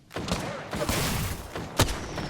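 Gunfire in the battle royale shooter Apex Legends, a dense run of shots with a few sharper cracks standing out near the end, close and fairly loud.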